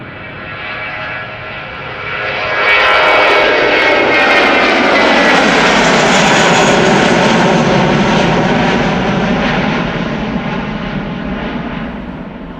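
An airliner's jet engines roar at Schiphol Airport, the sound swelling after a couple of seconds into a loud, sustained rumbling whine that slowly eases off toward the end.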